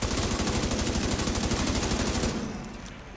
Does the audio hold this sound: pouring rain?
no